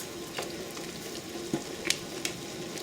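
Hotpot ingredients with a handful of cilantro get stirred in a pot, quiet scraping touches and soft sizzling with a few sharper clinks of the utensil, no talking.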